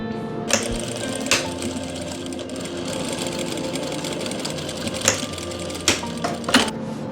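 A sewing machine runs steadily while stitching a folded lace edge on a dupatta, with a constant mechanical hum and a few sharp clicks and knocks as the fabric is adjusted.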